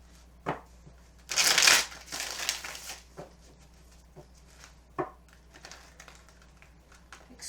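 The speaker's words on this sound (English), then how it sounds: "Okay, two more shuffles." A deck of tarot cards being shuffled by hand: a loud riffling burst followed by softer shuffling rustles and a few scattered card taps, close by with no talking.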